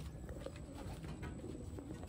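A pigeon, one of the Taiwan racing pigeons, coos softly in a few low, rounded calls over a steady background hiss, with no talk.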